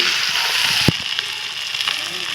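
Fish frying in a pan gives a close, steady sizzle, broken by a sharp clunk of a spatula turning the pieces, then lighter scrapes as the frying hiss continues.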